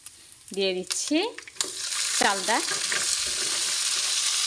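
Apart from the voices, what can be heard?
chalta being stir-fried with panch phoron spices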